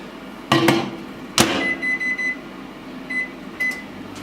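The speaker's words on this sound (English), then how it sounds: "And then just chuck that in the microwave" A microwave door thuds shut twice, then a few short electronic beeps sound over a steady low hum, with more beeps near the end.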